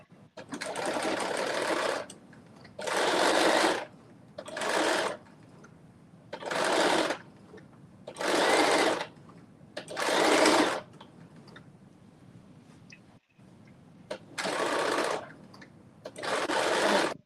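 A sewing machine stitches a garment piece for McCall's M8208 in bursts of about a second each, eight or so runs separated by short quiet gaps, close and steady with no talking.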